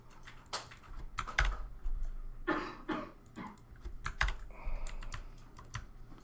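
Close computer keyboard keystrokes for shortcuts, irregular clusters of sharp clicks and taps with brief pauses, fairly quiet, with a low hum underneath.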